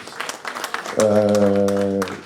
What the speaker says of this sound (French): Charles, monsieur Charles, on l'applaudit s'il vous plaît